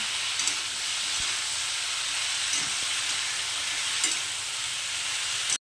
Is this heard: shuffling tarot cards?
no